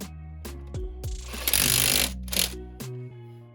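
Genuine Makita power tool gun working on a car, heard up close in short bursts: several quick whirring zips with brief pauses, then a longer buzzing run in the middle, then more short pulses.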